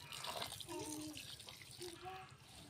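About half a litre of boiled milk is poured into a pot of cooking food, a continuous faint liquid pour with light splashing throughout.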